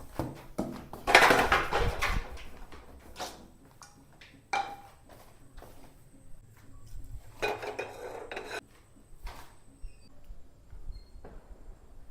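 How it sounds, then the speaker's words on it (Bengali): Pots and pans clatter in a home kitchen during cooking, with scattered clinks of cutlery and metal scraping in irregular bursts, loudest early on and then sparser. "এই দেখো রান্না করে দেখাচ্ছি"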